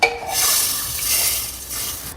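Hot ghee tempering with mustard seeds, curry leaves and Kashmiri red chilli hits a pot of sambhar, giving a sharp clatter and then a steady, fairly loud sizzling hiss for about two seconds.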